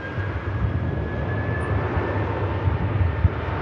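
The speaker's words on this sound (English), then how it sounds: "The aircraft rolls right past us at the awesome RVP." At Manchester Airport, an aircraft rolls past close by with a steady broadband jet roar and a faint high whine that hold at an even loudness, with no talking.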